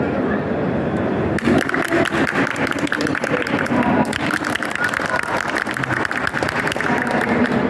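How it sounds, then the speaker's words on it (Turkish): Applause from one side of an audience at an awards ceremony during a trade expo, a quieter murmur at first, then a sudden burst of loud close clapping that briefly dips and picks up again. "Sadece tek bir tarafı alkışlayalım."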